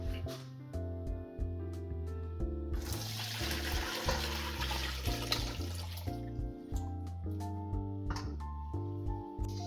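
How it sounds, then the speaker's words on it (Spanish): Veal blanquette broth strained through a strainer, a rushing pour of liquid lasting a few seconds under steady background music. "el resto lo vamos a colar"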